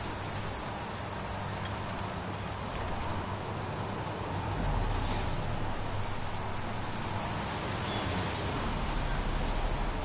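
Steady rain in the video game Heavy Rain, a dense, loud, unbroken hiss of falling drops filling the whole scene with no talk.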